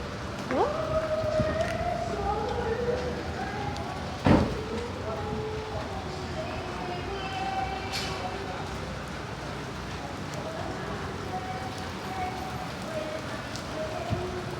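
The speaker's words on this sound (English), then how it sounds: "Wow, I like raining day." Steady rain falls on a dark, stormy day, a constant soft hiss with a sharp thump near the start and a faint siren-like tone drifting in the distance, while a voice speaks intermittently.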